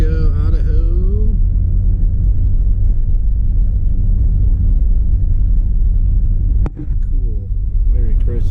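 A 1983 Toyota Tercel 4x4 driving through Moscow, Idaho, giving a steady, loud low road rumble from inside the car, with a voice over it early on and a brief knock near the end.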